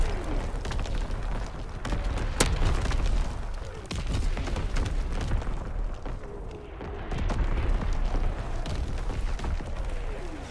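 Artillery strike in a competitive shooter video game, a dense fusillade of booms and bursts rumbling steadily with sharp pops, moderately distant and sustained throughout.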